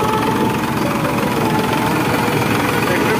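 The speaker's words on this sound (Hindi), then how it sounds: "ट्रैक्टर बिल्कुल ग्रेड पर चल रहा है।" A Farmtrac 45 tractor engine runs steadily and loudly at close range, a continuous low rumbling drone with a slight knocking vibration and no break in level.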